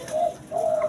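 Turtle doves in a small cage give two drawn-out, soft cooing calls, close and clear, separated by a brief pause with no voices.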